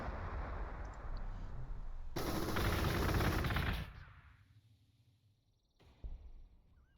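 Gunfire from the video game Warhammer 40,000: Gladius rattles out as a dense, loud burst lasting a couple of seconds over a rumbling battle background, then fades, with a lone later shot.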